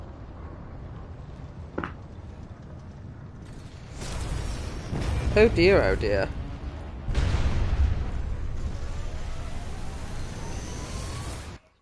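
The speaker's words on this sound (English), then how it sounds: "Giant cannon." Giant cannon in the Tales of Arise video game firing, with heavy booming blasts and a long rumbling roar building after a sharp crack, loud and sustained; a voice speaks briefly between the blasts.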